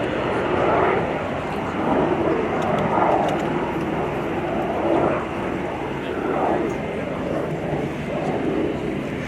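A U-2 Dragon Lady reconnaissance jet flies a display at the Royal International Air Tattoo 2024, RAF Fairford: a steady, broad engine roar that swells and fades slightly, with voices talking over it throughout.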